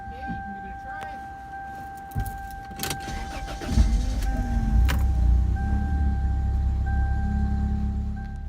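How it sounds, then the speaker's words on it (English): A car engine cranks and catches after a jangle of keys and some clicks, then settles into a steady low rumble, close and continuous under a faint electronic chime tone. "So my car's started now"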